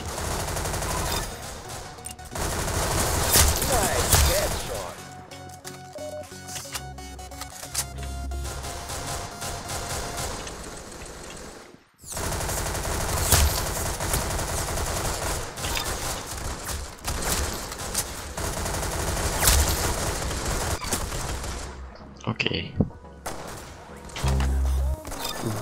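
Sustained automatic gunfire in a shooting video game, dense rapid bursts that run almost nonstop, break off briefly midway and then resume, loud and up front with occasional talking over it.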